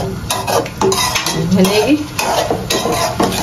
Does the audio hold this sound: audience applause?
no